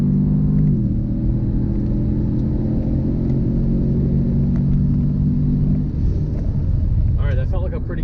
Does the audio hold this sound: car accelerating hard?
yes